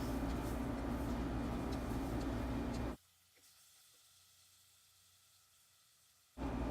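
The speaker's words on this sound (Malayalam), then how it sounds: "നമുക്കിതിലേക്ക് ചിക്കൻ പീസസ് ആഡ് ചെയ്ത് കൊടുക്കാം." Boneless chicken pieces and onions sizzling in a hot pan, a steady loud hiss that cuts off abruptly into near silence for a few seconds before the frying noise returns.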